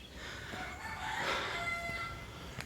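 A rooster crows outdoors at some distance, a drawn-out tonal call heard faintly over open-air background noise, with no talking.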